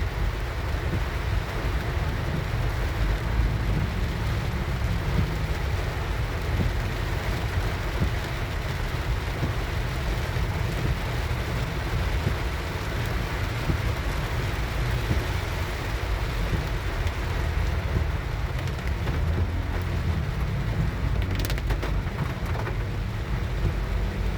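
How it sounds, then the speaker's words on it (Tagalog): Heavy rain pours during a typhoon on an airport road in Pasay City, a dense, steady hiss and patter that never lets up, with faint traffic rumble underneath. "Lakas ang ulan."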